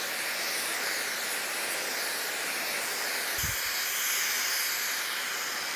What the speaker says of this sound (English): I got a rosebud tip on my welding setup here, my torch, and we're just going to heat it up.